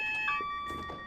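A Class 378 train's safety alarm in Train Simulator 2016 sounds as a faint, steady electronic tone, several pure pitches holding over quiet cab background with soft clicks.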